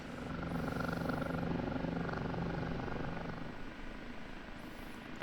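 An OH-58D Kiowa Warrior helicopter in the DCS flight sim, its rotor and turbine giving a steady, loud, even drone throughout with no talking.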